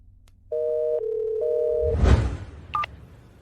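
A telephone tone sounds while a call to Jose is placed, two steady pitched segments with a brief dip between, followed by a rushing burst and a short high beep at the end.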